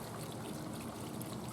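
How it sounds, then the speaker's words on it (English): Purple Power cleaner poured into a pump sprayer before the first wash of an old Ford 8N tractor, a steady, close trickling stream of liquid that runs throughout without pause. "I'm going to dump some here in this pump sprayer I got here."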